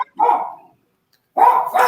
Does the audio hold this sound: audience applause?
no